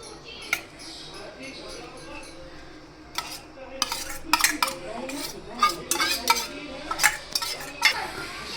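A spoon scrapes and clinks against a pan while drumstick leaves are stirred for a Gujarati bhaji, with sparse taps at first that turn into a busier run of metallic knocks close by.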